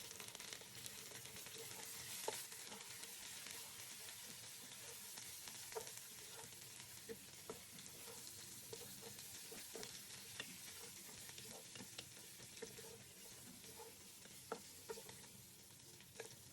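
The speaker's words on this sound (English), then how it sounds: "Once the onions are golden, add in the meat and give it a good stir." Beef sizzles in a pot with golden fried onions while a utensil stirs it, giving a steady frying hiss broken by repeated scraping and clinking strokes, fairly quiet and with no talk.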